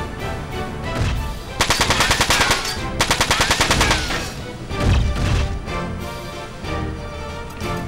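Mech gunfire attack in the video game Front Mission 4, two dense bursts of rapid automatic fire about a second apart, loud against a busy game soundtrack, followed by a heavier impact.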